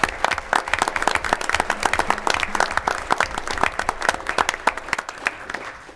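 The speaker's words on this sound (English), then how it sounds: "Let's give them one more round of applause." Audience applause at a school board meeting for Owatonna Public Schools, a dense steady round of many hands clapping in a room, fairly loud and continuous throughout with no talk over it.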